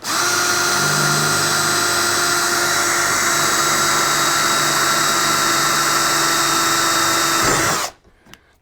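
A power drill fixing the outer ends of a tailgate blackout curtain on a VW T5 or T6 campervan, whining loudly and steadily for nearly eight seconds before stopping abruptly, with no voices.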